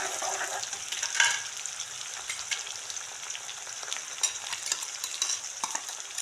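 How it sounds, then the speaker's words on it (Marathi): Curry leaves and onion frying in a pan for pithla, a bright crackling sizzle with spattering pops and occasional stirring, close and steady. "कढीपत्ता आणि कांदा चांगला फ्राय होऊन द्यायचा"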